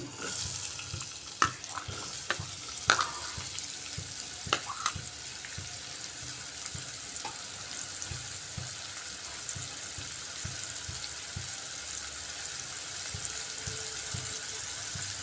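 Chopped onions hit hot oil left from frying potatoes and sizzle steadily, with a few sharp scraping and clinking stirs early on before the hiss settles into an even crackle.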